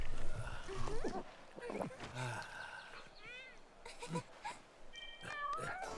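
Cartoonish cats meowing in the video game Monster Hunter Rise, several short rising and falling mews in quick succession, fairly quiet, mixed with game music and effects.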